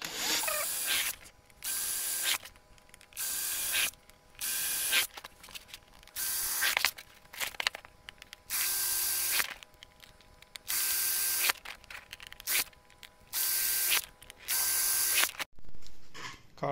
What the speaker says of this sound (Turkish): Artık kartımızın deliklerini delmemiz gerekiyor.